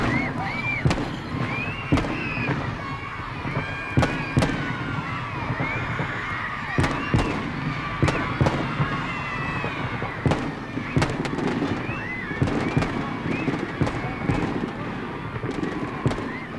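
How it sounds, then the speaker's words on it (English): Fireworks burst over Hyde Park, London, at a 1979 royal children's party, a steady stream of sharp cracks and bangs rising from a dense, noisy crowd, loud and close throughout. "Then it was time for the Queen to set off the fireworks"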